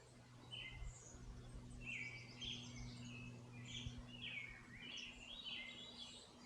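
Many birds singing and chirping at Pintail Marsh near Jefferson, Oregon, bright overlapping calls in steady bursts over a quiet outdoor background with a low hum.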